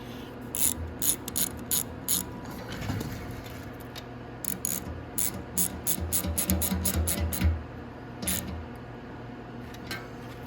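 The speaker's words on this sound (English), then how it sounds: "I can go ahead and tighten down my gas tank at the points" Ratchet wrench clicking in short bursts while tightening the mounting bolts of a gas tank on a Venom X18 automatic motorcycle, with quick repeated strokes close by and brief pauses between runs.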